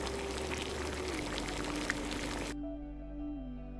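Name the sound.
boiling water for leaves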